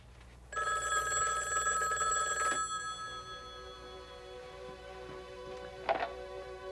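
A telephone rings in a dramatized scene from a mystery documentary episode, one long bright electronic ring lasting about two seconds, then a fading tail and a brief second burst near the end, alone with no talking.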